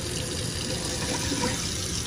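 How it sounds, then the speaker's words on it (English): Water runs steadily from an RV fresh water supply just turned on with the lines already pressurized, a continuous broadband rush that stays close and even for the whole stretch, with no voices. "so you're just gonna turn on the water"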